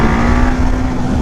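KTM 690 Duke single-cylinder motorcycle engine held at a loud, steady high rev during a wheelie, a dense buzzing drone close by throughout.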